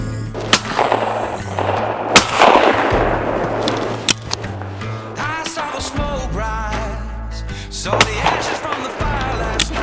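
A shotgun fires at sporting clay targets on an outdoor range, with several sharp, loud reports spaced a few seconds apart over a low background rumble.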